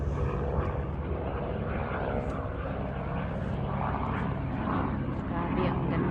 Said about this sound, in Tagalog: Ito pang helicopter, guys.